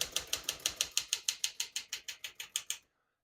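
A 1960 Smith-Corona Galaxie portable typewriter, its platen and typing mechanism clacking in a steady run of about sixteen evenly spaced, crisp strikes, close and alone, then abruptly stopping.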